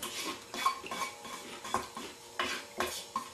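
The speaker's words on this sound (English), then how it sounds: "is your chance to clean up the last little bit that's left in the pan" A utensil scrapes the last bits of homemade salsa from a pan, making close, irregular metallic scrapes and clinks in short strokes with small gaps between them.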